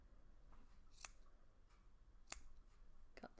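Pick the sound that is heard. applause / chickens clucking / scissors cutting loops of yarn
scissors cutting loops of yarn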